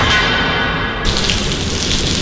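Steady rain falls outdoors, a dense, loud wash of drops hitting surfaces that continues without pause across the short stretch.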